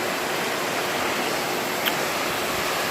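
A small waterfall in a spruce forest of the Catskill Mountains gives a steady, even broadband rush of falling water, continuous and fairly close, with no talking over it.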